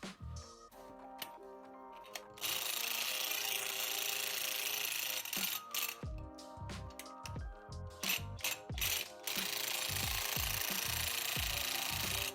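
Rapid bursts of a pneumatic impact gun hammer away in repeated loud rattling runs with brief pauses between them, close by, spinning a knock-off adapter on and off a wire wheel.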